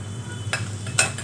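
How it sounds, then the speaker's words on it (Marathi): Cumin seeds hit hot oil in a heated kadhai for a simple potato bhaji, giving two short, close sizzling bursts over a low steady kitchen hum. "तर इकडं कढई तापत ठेवलेली आहे, त्याच्यामध्ये टाकायचं फक्त जिरं"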